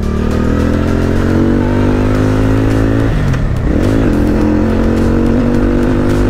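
A Benda Napoleon 450 motorcycle engine drones steadily up close at speed, its pitch dipping and rising briefly midway as the rider shifts or eases off, then holding steady again.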